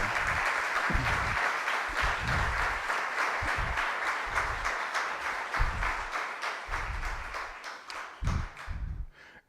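A crowd at a Socialist campaign rally in Ateca, Aragón claps steadily, a broad wash of applause with low thumps beneath, tapering off toward the end.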